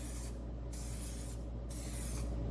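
Spray painting a Ducati Monster fuel tank for a cafe racer build, a steady hiss of paint from the can running close and continuous with short pauses between passes, over a constant low hum.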